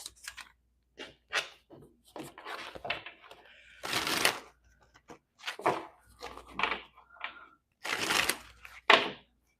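Tarot-style cards being shuffled and handled for a card reading, close and fairly quiet, in irregular riffling bursts and soft flicks with brief pauses between.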